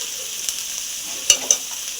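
Ground cumin, chilli and turmeric with salt frying in oil in a pan, a soft continuous sizzle with a few sharp scraping stirs near the end, close and without talk.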